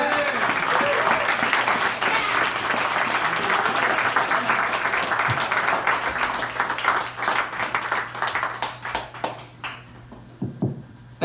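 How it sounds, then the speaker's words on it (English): Comedy club crowd at a stand-up release show applauding a comedian, dense sustained clapping that thins into scattered claps and fades toward the end, with voices faintly mixed in. "One more round of applause for Alan Richardson."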